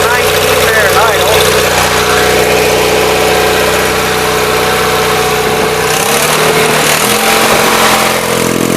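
A 1977 Gravely 817 tractor's small engine idles steadily and loudly up close, a continuous mechanical hum with slight variation toward the end.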